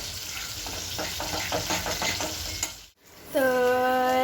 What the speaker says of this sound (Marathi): हे छान सगळं मिक्स झालं की यामध्ये आपण कोळंबी आहे ती घालायची